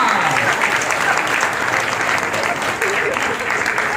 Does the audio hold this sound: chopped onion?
no